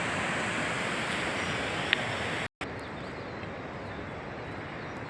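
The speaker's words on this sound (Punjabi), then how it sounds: "ਬਰਫ਼ ਦੇ ਵਿੱਚ ਥੱਲੋਂ ਦੀ ਪਾਣੀ ਆ ਰਿਹਾ ਰਿਸੂਸ ਜਿਹੜਾ ਕਿ ਥੱਲੇ ਆ ਕੇ" A snowmelt stream in the Valley of Flowers, Uttarakhand, rushes loudly beneath snow, a steady broadband roar of flowing water interrupted by one brief dropout partway through.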